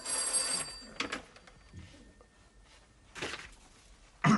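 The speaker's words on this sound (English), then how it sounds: "There is nobody here to answer the phone." A telephone rings in bursts inside an office, with loud ringing at the start, further rings around one second and three seconds, and a sharp burst at the end, separated by quieter room noise.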